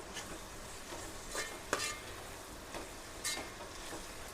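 Tomatoes are stirred into softened, golden frying onions for chicken biryani. Soft, repeated scraping strokes sit over a faint background sizzle, quiet and close.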